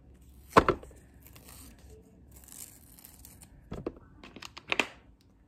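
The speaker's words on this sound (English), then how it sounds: "So let me get my sharpener to sharpen it." An eyebrow pencil is sharpened in a small handheld sharpener: a few short, close scraping and crunching bursts with quiet pauses between them and no talking.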